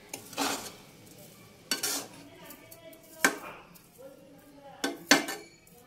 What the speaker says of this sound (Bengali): এবার চিনিটা দিয়ে ভালো করে আমি এটা মিশিয়ে ভাতের সাথে মিশাবো পুরো চিনিটা।